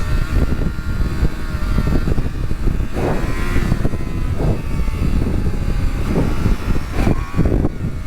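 A Honda CBR 600 motorcycle is ridden hard and wheelied in second gear. Its engine roars loud and continuous with rising and falling revs, and wind rush sits underneath.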